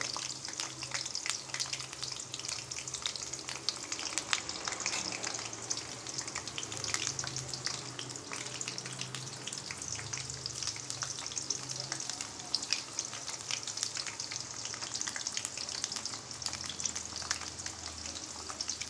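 Bitter gourd pieces deep frying in oil without salt or turmeric, bubbling and sizzling steadily at low level throughout, with occasional stirring and no talk.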